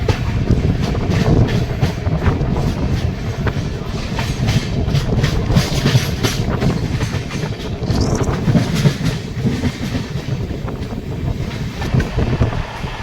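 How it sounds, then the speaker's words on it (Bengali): Howrah-Darbhanga Express running through hilly forest, a steady loud rumble of wheels on rails with rhythmic clatter and wind buffeting throughout, no voices. "পাহাড় জঙ্গলের মধ্যে দিয়ে ট্রেন যাচ্ছে"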